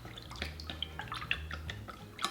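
Soy sauce, dark soy sauce, oyster sauce and water whisked together in a bowl: quick, irregular light clinks and small liquid splashes, close by, with no talking.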